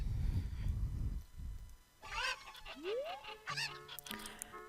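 Cuccos cluck and squawk in Zelda: Ocarina of Time, a few bright bird calls and a rising chirp over game sounds after a muffled, rumbling opening.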